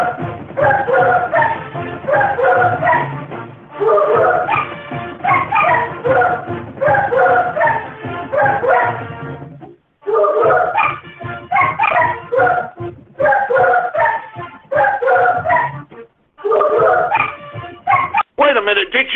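Dog barks and yips are cut and pitched into a theme tune as a loud, rhythmic melody. The phrases repeat with short gaps between them, and no voices are heard.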